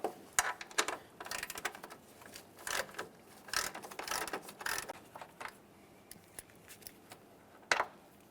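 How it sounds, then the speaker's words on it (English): A ratchet loosens the 10mm mounting bolts on the fog light housing of a 1999-2006 Chevrolet Silverado 1500. Quick clicking bursts come up close, broken by pauses and a sharper clack near the end. "we have two 10mm headed mounting bolts to remove"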